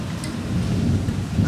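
Steady rain pours in a dense, even hiss with a low rumble underneath, continuous and close for the whole moment, no voices.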